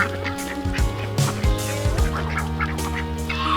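Several ducks quack and honk in a busy, overlapping chorus, close by and fairly loud, with no talking.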